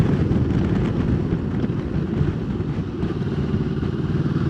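A Moto Morini or Sinnis motorcycle rides at speed, its engine roar blending with heavy wind rush into a loud, continuous, even wash of sound with no talking.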